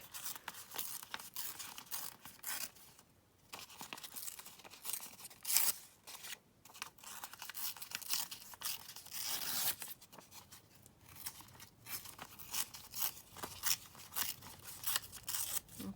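Paper being torn by hand for a junk journal, heard close up as irregular rasping rips and crinkles in short bursts and longer pulls, with quiet pauses between them and no talking.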